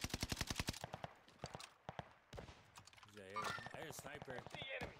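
Rapid gunfire crackles in a battle royale-style shooter game, a quick burst of sharp repeated shots up front followed by scattered single cracks, with players talking over the action.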